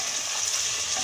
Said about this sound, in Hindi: अब हम सारे बीफ डाल देंगे और इसे थोड़ा मिक्स कर लेते हैं।